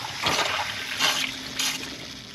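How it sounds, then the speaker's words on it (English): A sump pump pushes water through a check valve out to a drain, giving a steady rushing, trickling wash of liquid with a few louder surges, close by and with no voices. "the pump will pump the water through the check valve"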